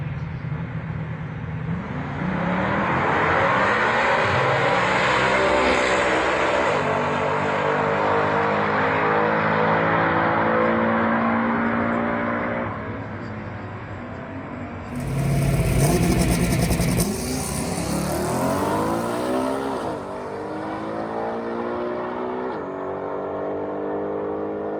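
A stock-appearing ZL1 Camaro or L88 Corvette makes a quarter-mile drag pass, its engine revving hard through rising gear sweeps with a shift break, loud and close and continuous throughout.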